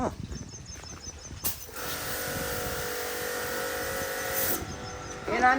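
A Texas pressure washer machine runs with a steady high hiss and motor whine while washing a Maruti Brezza car outdoors, the spray continuous, with a louder stretch in the middle.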